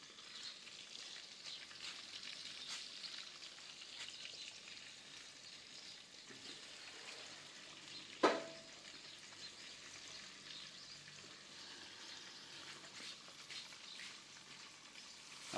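Catfish frying in oil sizzles and crackles continuously at a low, even level, with one sharper pop midway and occasional spatters, and no voices.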